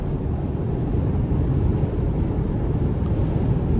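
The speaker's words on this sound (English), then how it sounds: "Wind noise is a bit prevalent, but it's very windy out today." Constant low rumbling wind buffeting the microphone over a steady drone, heard while driving a 2024 Chevrolet Colorado Z71 4WD pickup on a very windy day, with no voices, unbroken throughout.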